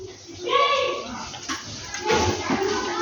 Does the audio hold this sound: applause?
no